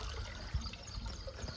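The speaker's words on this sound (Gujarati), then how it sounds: "તમે જોઈ શકો છો અત્યારે હાલ પર પાણી આવે છે." Tap water trickles and splashes steadily in a home in the early morning, faint and close, with no talk over it.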